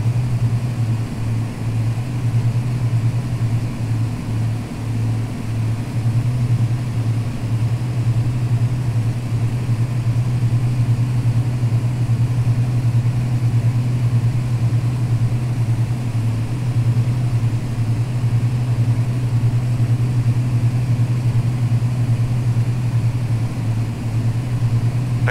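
Twin aircraft engines drone steadily in a flight simulator game, a loud constant low hum holding throughout with no voices.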